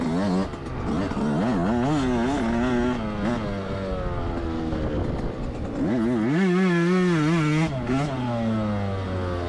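A 2024 Yamaha YZ125X small-bore two-stroke dirt bike engine revs up and down repeatedly during a ride, its pitch rising and falling in quick bursts, loud and close throughout.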